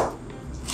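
A knife chops through an onion on a board, a few soft cuts close by, fairly quiet with no talking.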